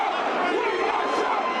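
Crowd of thousands at a Trump rally erupting, a dense roar of shouting and chatter that stays loud and continuous throughout.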